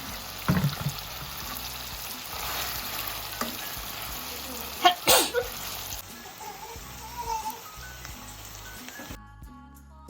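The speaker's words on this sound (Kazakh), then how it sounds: "бірдей қылып қуырамыз." Meat for Uyghur lagman frying in a pan, a continuous close sizzle broken by loud scraping stirs and clanks, ending abruptly.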